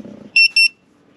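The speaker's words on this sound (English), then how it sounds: "Once it warms up, it'll beep and let you know that it's warm." A gas leak detector, once warmed up, sounds two short, loud electronic beeps in quick succession, with faint background noise just before and after.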